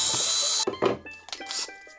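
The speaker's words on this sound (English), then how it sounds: "Pilot hole with the 1/8" drill bit." A short, high-pitched whir of a power drill boring a pilot hole with a 1/8 inch bit, then stopping, followed by a few scattered knocks and clatters.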